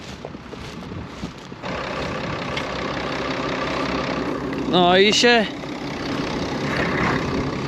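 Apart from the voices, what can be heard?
tractor engine idling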